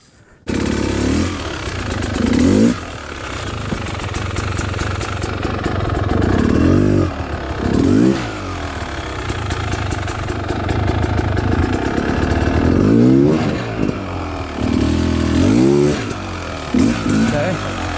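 Beta Xtrainer 300 enduro motorcycle on hard enduro terrain, its two-stroke engine revving and bogging in repeated surges while climbing over rocks, loud and close, with someone talking over it.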